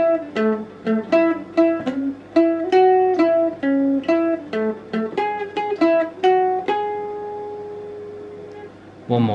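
A plucked mandolin picks out a bright melody, quick repeated notes in a steady rhythm, ending on a sustained note.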